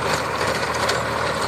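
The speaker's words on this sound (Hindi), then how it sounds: "देखिए किस तरह भयंकर जुताई कर रहा है ट्रैक्टर" A tractor ploughs a field being prepared for sugarcane planting. Its heavy diesel engine rumbles loud and close, steady and unbroken, with no voices over it.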